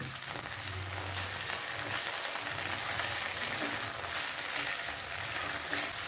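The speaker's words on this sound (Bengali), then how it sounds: "এবার গ্যাসটাকে হাই ফ্লেমে রেখে 3 থেকে 4 মিনিট ভেজে নেব" Capsicum with red and yellow bell peppers frying on a high flame, a continuous soft sizzle with a rain-like crackle and faint low scraping, steady throughout without talk.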